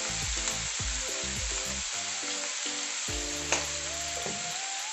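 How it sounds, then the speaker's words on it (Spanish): Chicken sautés in a frying pan with a steady, bright sizzle throughout, close by, while a few soft clinks and low knocks of utensils sound over it. "En una sartén ponemos el pollo para que se nos vaya salteando."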